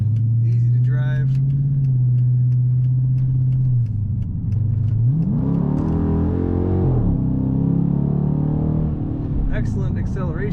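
A 2010 Dodge Challenger R/T automatic accelerates, its V8 engine note holding steady and then climbing in pitch as the revs rise, loud and close throughout with a brief voice near the start.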